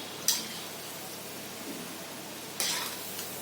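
Cabbage bhaji fritters frying in hot oil give a soft, steady sizzle, broken by two brief scraping bursts as the fritters are turned over in the pan.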